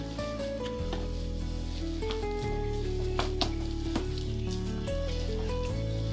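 Cumin seeds added to a hot pan give a light sizzle and crackle that sits under prominent background music.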